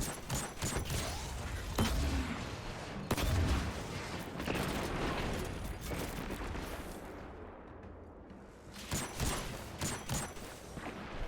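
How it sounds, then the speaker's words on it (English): Rocket launcher fire aimed at a barrier champion in Destiny 2, with heavy booming shots and explosions amid continuous gunfire and combat noise, loud and close, easing briefly before another volley. "I'm going to go ahead and rocket this rightmost one"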